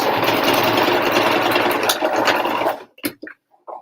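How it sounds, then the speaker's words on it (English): A sewing machine runs steadily and loudly up close, stitching bucket hat fabric forward and reverse in a continuous whirring drone, then stops abruptly, followed by a few soft handling clicks. "I'm just doing a bit forward and reverse and then sewing it all the way to the end."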